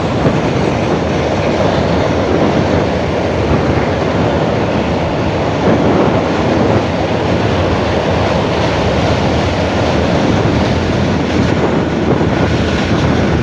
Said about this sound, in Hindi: अरे ट्रेन भी जा रही है माशाल्लाह